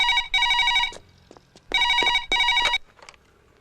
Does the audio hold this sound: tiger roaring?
no